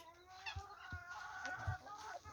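Village chickens cluck in short bursts close by, with a few sharp low thumps and a soft outdoor background in the evening.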